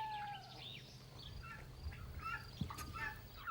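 A turkey on a farm gobbles in quick warbling bursts, faint and somewhat distant, with other bird calls and chirps around it.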